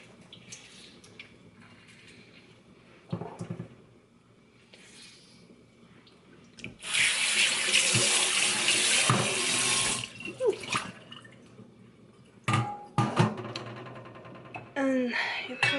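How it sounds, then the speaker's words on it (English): Eggplant rinsed under cold running tap water, a loud rush of water from the faucet through the middle with splashing and dripping around it, alongside kitchen clatter and some talking. "and then rinse it in the cold water"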